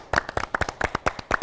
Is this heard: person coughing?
no